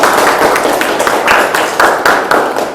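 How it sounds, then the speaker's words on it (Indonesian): Classroom applause from a group of students at the end of a lesson, brisk continuous clapping with a few sharper accents, close and loud, lasting a few seconds. "kita beri tepuk tangan untuk kita semua"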